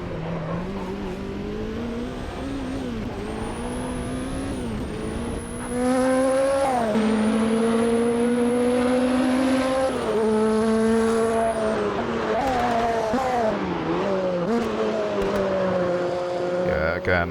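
A Nissan race car in Automobilista 2 roars through the gears, its engine note climbing and dropping in repeated revs with shifts, loud and close, with a high whine riding above and no talk.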